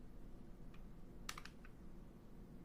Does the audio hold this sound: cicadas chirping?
no